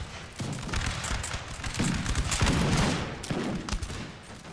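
Dense musket volleys and explosive bangs from a Napoleon: Total War battle with a rocket crew under fire, crackling in overlapping bursts at close range with no talking over them.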